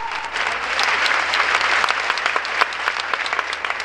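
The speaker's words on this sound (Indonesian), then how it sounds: "Tepuk tangan bagi Tuhan." Dense, loud applause from a church congregation, steady and continuous with a few sharper claps standing out, no voices on top.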